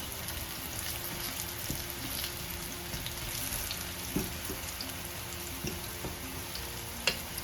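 Mackerel frying in a pan, a steady close sizzle and crackle running throughout with a few sharper pops standing out, no voice over it.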